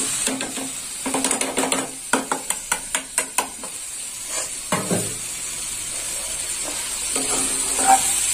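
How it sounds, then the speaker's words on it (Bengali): Yardlong beans with fried potatoes and spices stir-fried for a shrimp dish, a spatula scraping the pan in quick rhythmic bursts over a steady sizzle of hot oil. "আলু দিয়ে বরবটিটা কষে নেব।"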